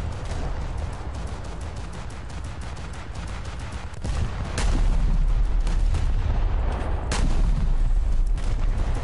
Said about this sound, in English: all my guns just started fucking pelting at you